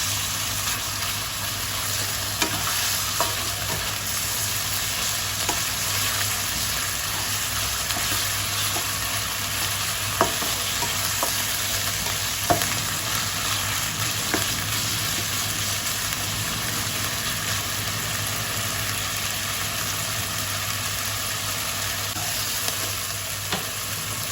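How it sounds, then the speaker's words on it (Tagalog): Sliced meat sizzles and fries in a hot pan for Korean sticky rice, a steady dense crackle with small pops and stirring clinks throughout, close and continuous with no talking. "Tapos, una natin ilagay ang ating sliced meat."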